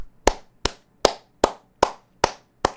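Seven separate, sharp hand claps fall at a steady, unhurried beat, each loud and close, with near silence between them.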